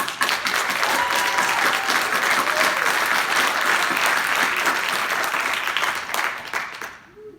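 An audience claps steadily at a U.S. Air Force master sergeant's military retirement ceremony, a dense, loud round of applause that holds for several seconds and then fades out.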